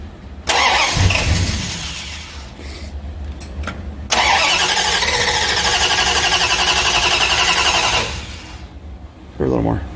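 A Mopar 340 small-block engine in a Dart cranks and fires, running loud and rough for several seconds before shutting off, with voices heard before and after.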